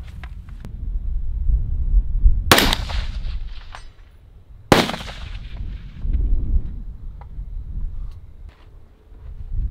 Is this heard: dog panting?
no